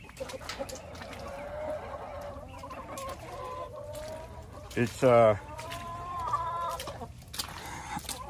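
Hens cluck and chatter in a muddy backyard chicken pen, a loud burst of squawking rising mid-way, with a person speaking briefly over the birds.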